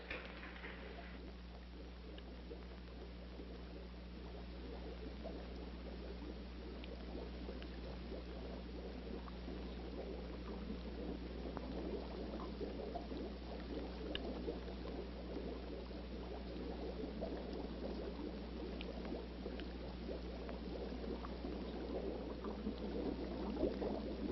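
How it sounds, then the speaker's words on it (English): Running water in a 1969 horror film, a continuous low trickle and rush that stays soft and steady throughout over a constant low hum. "Sounds like water."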